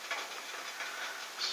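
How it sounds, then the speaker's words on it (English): Steam hissing steadily from a covered pot of squash, shrimp and cabbage, a soft, close, continuous whoosh with slight fluctuations and no voices. "steaming up nice."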